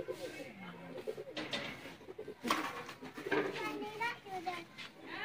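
Original Sialkoti black-mouthed pigeons coo in soft, throaty bursts at close range, mixed with some voices and children in the background.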